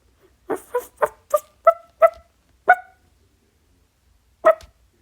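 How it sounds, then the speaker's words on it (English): Dogs barking in a quick series of seven sharp, close barks, then a pause and one final bark, with no talk. "Yeah, I know that's horrible barking."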